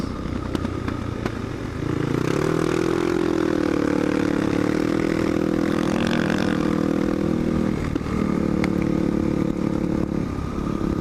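Supermoto motorcycle engines ride uphill through mist, a steady loud drone that rises and falls with throttle changes from about two seconds onward, after a brief quieter start, with no voices.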